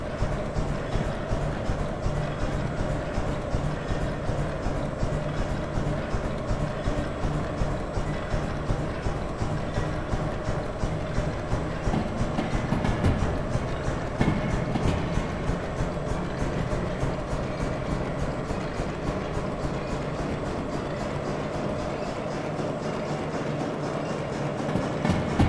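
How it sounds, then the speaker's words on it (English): A toy steam train running while losing steam, a long steady rhythmic chugging with a rough mechanical grinding underneath, close and even in level, growing heavier partway through, with a faint voice at moments. "That grinding sound is ominous."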